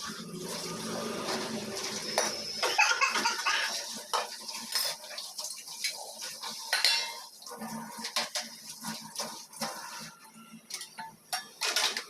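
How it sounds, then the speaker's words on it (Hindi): Steel utensils, plates and pots clink and clatter as washed dishes are stacked away in a home kitchen, with running tap water and sharp metallic knocks in an uneven rhythm. "तो उसी को सेटल कर रहे थे कि बर्तन वर्तन लगा दें"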